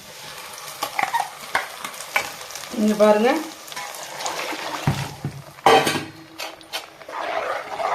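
Liquid pours into a hot pan of Bombay chutney with a steady sizzle and stirring, rising into a louder splash and bubbling burst midway, as a brief spoken remark passes over the cooking.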